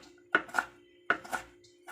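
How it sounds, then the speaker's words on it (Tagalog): A knife chops squid into small pieces on a board: two pairs of crisp, close cuts, quiet and alone. "Tapos hiwain natin siya ng maliliit ganyan."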